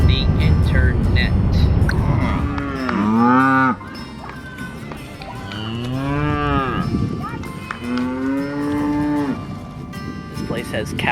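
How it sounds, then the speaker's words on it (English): Cattle on a farm moo in loud, drawn-out calls close by, three long lowing moos separated by short pauses over outdoor background noise. "This place has cows."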